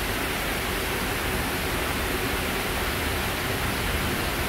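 Heavy rain in Stamford, heard from a balcony: a steady, dense hiss of pouring water, loud and even throughout with no talking.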